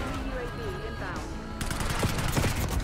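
Automatic gunfire in the shooter game Black Ops 6 rattles in dense bursts through the second half, following quieter in-game ambience with faint tonal effects.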